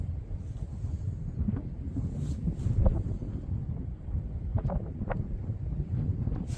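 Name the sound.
strong southwesterly wind blowing on the rocks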